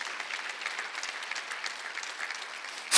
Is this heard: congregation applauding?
yes